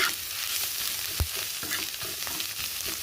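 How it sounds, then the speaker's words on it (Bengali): Potato and egg fry in a pan with a steady close sizzle, and a spatula stirs and scrapes through them. There is one sharp knock near the middle. No one speaks. "বন্ধুরা আলু আর ডিমটা বেশ ভালো করে ফ্রাই করে নেব"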